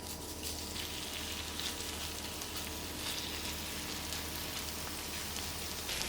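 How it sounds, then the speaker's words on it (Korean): Batter sizzles steadily in a hot oiled pan, a continuous crackling hiss with no voices. "팬에 오일 1큰술 두르고 반죽의 절반 분량만 먼저 올리세요"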